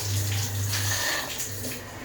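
Steady running water during washing, a continuous close splashing rush over a low humming tone, with no voices.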